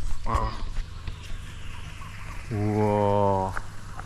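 A chicken at a rural farm market gives a few short clucks, then a sustained, tonal cackle or call about a second long. Faint background noise underneath, with no talk.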